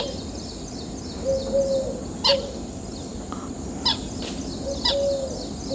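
Several short bird calls ring out at intervals over a steady outdoor hum, with a couple of brief sustained whistle-like notes between them.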